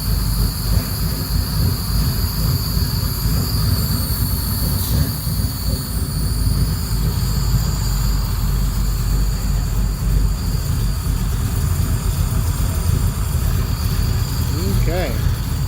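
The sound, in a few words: cold car engine idling at low idle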